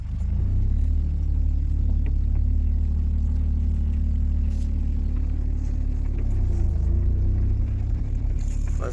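A manual car pulls away in first gear, its engine a steady close rumble that holds throughout without breaks, and no one speaks.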